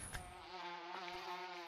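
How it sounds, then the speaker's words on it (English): Swarm of bees pouring out of a beehive in the VR game Gorilla Tag, a steady close insect buzz holding for under two seconds with no talking. "and all the bees come out."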